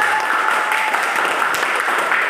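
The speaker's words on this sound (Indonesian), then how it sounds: "Tepuk tangan kepada kelompok." A classroom of students applauds a presenting group in a dense, steady round of clapping that fills the short clip, with no talk over it.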